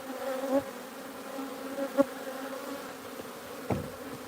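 Bees buzz steadily around a wild beehive comb, a close, continuous droning hum with a few louder individual passes and soft knocks.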